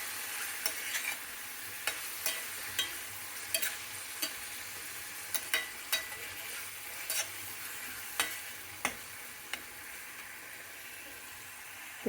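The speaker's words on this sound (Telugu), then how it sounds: "ఆకుకూరని బాగా వేయించుకోవాలండి." Leafy greens, fenugreek for an aloo methi dish, fry quietly in a pan with a soft steady sizzle, punctuated by regular clicks and scrapes from a stirring spoon.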